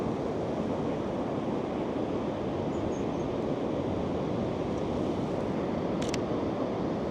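Ocean surf rolls steadily onto a shore, a continuous broad wash of breaking waves with no clear gaps, mixed with some wind rush.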